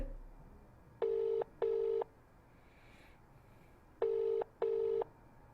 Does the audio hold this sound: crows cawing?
no